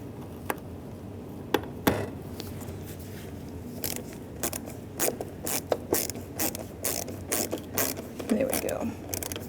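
A Torx T15 driver turns license plate light mounting screws on a 1994-2001 Dodge Ram 1500, giving sharp, scattered ratcheting clicks and scrapes in irregular bursts over a low background hum.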